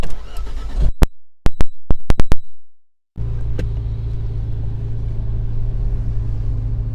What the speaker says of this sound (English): start the car and good luck